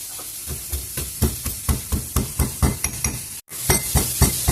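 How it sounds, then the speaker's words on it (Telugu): Rhythmic pounding of unpeeled garlic cloves with cumin seeds, coarsely crushed for potato fry, comes as steady, close, evenly spaced thuds with crisp crunchy edges, one brief gap, then the beat resumes. "వెల్లుల్లిపాయలు నేనేం పొట్టు తీయలేదు అట్లనే వేస్తున్నాను పాటు కొంచెము జీలకర్ర వేసి పచ్చపచ్చ దంచుకున్నాము"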